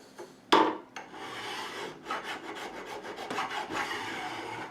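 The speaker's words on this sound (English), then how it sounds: "all I do is just go down the side just to remove any burrs we might have sticking out over the edges" Hand file rasping along the fret edges of a Gibson SG Special guitar neck, deburring the fret ends beside the rosewood fingerboard: a quiet series of close strokes following one sharper scrape near the start.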